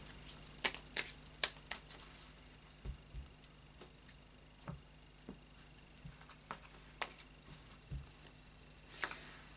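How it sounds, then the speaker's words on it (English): Faint, scattered tarot card flicks and light tapping from shuffling a Tarot of Dreams deck come in uneven bursts over a low steady hum, quiet and close. "the final shuffle of the Tarot of Dreams"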